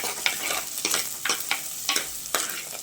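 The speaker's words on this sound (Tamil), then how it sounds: "இது நல்லா எண்ணெயிலே பொரிஞ்சிடும் இந்த மிளகு" Crackling, popping sizzle of peppercorns frying in hot oil for fish curry, with sharp pops every half second or so over a steady hiss, close up.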